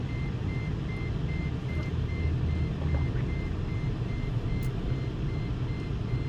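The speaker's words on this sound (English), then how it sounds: "But the beeping, constant beeping is just..." Reversing beeps from a vehicle sound at a steady, regular rhythm, faint and moderately distant, over a loud constant engine rumble, with no voices.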